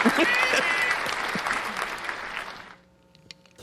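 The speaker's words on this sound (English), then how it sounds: "I'm gonna give you some applause" Applause from a crowd rings out loud and full, then fades away and leaves a few faint, scattered sounds.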